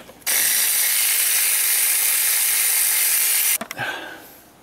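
A ratchet wrench loosening bolts on a Toyota Camry engine, a loud steady rapid clicking run for over three seconds, then a few separate close clanks and clicks as it stops.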